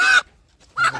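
Pure native desi hens squawk in two loud, close bursts, a short harsh call at the start and another near the end with a brief quiet gap between.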